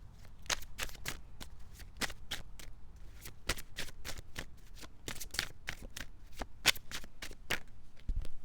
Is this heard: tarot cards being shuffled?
yes